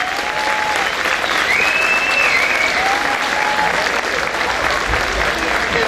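Steady, loud audience applause at a chacarera folk music show, honoring a singer who also plays guitar. The clapping is a thick, continuous wash from start to finish, with faint crowd voices underneath.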